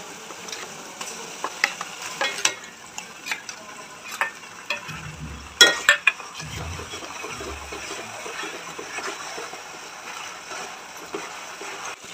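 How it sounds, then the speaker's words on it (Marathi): Chopped onions and ground spice paste frying in a pan for chicken biryani, with a soft sizzle broken by scraping stirs and a few sharper clacks of the spoon against the pan. "बघा आपले कांदे आणि वाटण छान फ्राय झालेले आहेत।"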